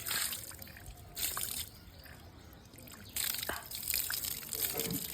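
Water pours and trickles over a dog's tail during a wash, a close splashing flow that swells and ebbs in several bursts.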